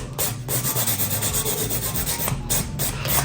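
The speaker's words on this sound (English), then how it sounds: "So I'm gonna go ahead and just file that." A nail file rubs back and forth across a fingernail in quick, even strokes, a close, dry scratchy rasp repeating steadily without any voices.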